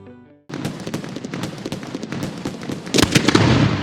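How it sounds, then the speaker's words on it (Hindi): A Diwali Laxmi bomb firecracker goes off: a sudden sharp bang followed by a dense burst of crackling pops and a second louder blast near the end, close and loud with no talking. "अरे वाह, क्या धमाका था यार"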